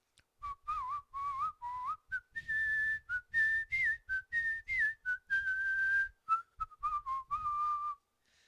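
Whistled melody from a song, a bright, clear tune in short phrases and longer held notes with steady rhythm, backed by faint drums and band, loud and upfront with no talking.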